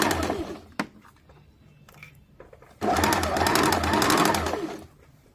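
A sewing machine stitches the side seam of a kameez, first in a short run, then a steady, loud whirring burst of about two seconds, close by, with faint background noise between.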